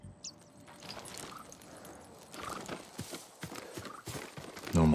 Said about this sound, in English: Farm horse. Never seen battle.